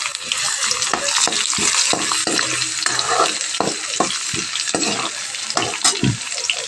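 Cumin seeds and garlic dropped into hot oil, a loud close crackling sizzle broken by repeated scraping stirs and bursts of spattering, with no talk.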